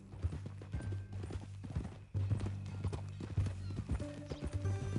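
Horse hooves clip-clop steadily in Red Dead Redemption 2, a close rhythmic clatter of hoofbeats with a brief whinny and faint distant gunfire in the background.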